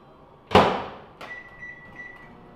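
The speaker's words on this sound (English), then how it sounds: "put the jasmine rice inside the microwave for 90 seconds" A sharp thud like a microwave door shutting, then a click and a thin steady electronic hum running quietly to the end, as a microwave oven heats jasmine rice.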